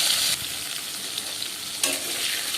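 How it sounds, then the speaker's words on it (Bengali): Potatoes frying in hot oil with nigella seeds and green chillies, a steady close sizzle with spoon stirring, louder bursts at the start and again near the end, no voices. "কাঁচা লঙ্কা ও কালো জিরের সাথে আলুগুলো আমি কিছুক্ষণ ভেজে নেব"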